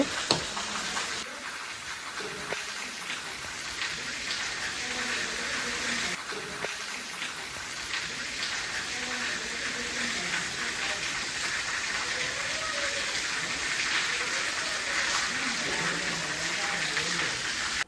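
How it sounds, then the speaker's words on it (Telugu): Heavy rain pours steadily and loudly throughout beside a temple, a dense continuous hiss of water, with faint voices occasionally audible beneath it. "చూడండి ఎంత పెద్ద వర్షం పడుతుందో అసలు ఇంకా వర్షం పెరిగిపోయింది"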